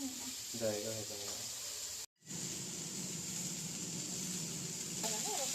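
Pomfret fish frying in a pan, a steady close sizzling hiss that runs almost throughout, with people talking over it.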